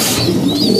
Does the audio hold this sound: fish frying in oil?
no